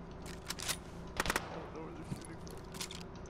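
Machine gun fire in a shooter video game comes as a few short, sharp bursts, one cluster louder than the rest, set against steady background noise with occasional distant shots.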